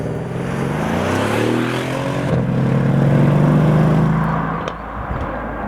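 A Mercedes S63 AMG's 5.5-liter bi-turbo V8 revs loud and close, the pitch rising and falling in sustained sweeps for several seconds before dropping sharply near the end.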